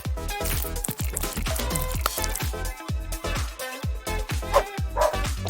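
Rapid, repeated dog barks in a steady run, close and loud, with a busy crinkly background and no talking.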